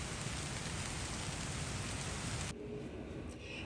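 Rain falls steadily in the Forest of Bowland as a dense, even hiss that drops abruptly to a quieter, softer patter partway through.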